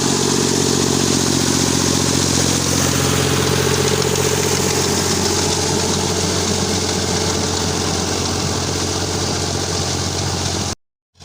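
A Ghazi tractor pulling a rotavator through a field in second gear, its engine holding a steady droning hum with a low throb for about eleven seconds before cutting off abruptly, close and loud, no talking.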